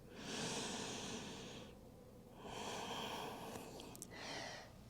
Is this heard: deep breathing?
yes